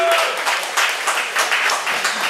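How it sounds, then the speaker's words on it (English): Scattered applause for a bass player from a small audience, uneven bursts of clapping from a handful of people, fairly close and fading in and out over a couple of seconds. "can we give him a round of applause?"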